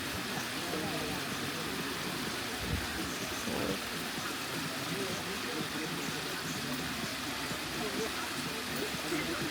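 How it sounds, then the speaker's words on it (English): Waterfall at Basin Cascades swirling down into a small pool, a constant broad rushing hiss that fills the whole stretch evenly, with faint background voices of people nearby. "Water swirling down into a little pool."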